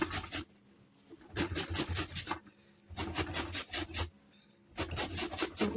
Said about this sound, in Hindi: आवाज़ आ रही होगी कद्दूकस करने की।